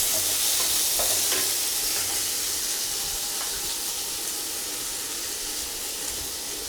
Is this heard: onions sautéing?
yes